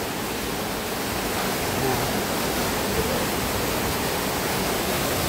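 Water at Aurora Villa falls pours in a steady, broadband roar, loud and close, with no breaks or changes in intensity.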